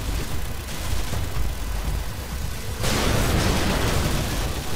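A loud explosion in the shooter Call of Duty MW2 hits midway through dense battle noise, with a broad blast swelling into sustained rumble and debris over ongoing gunfire.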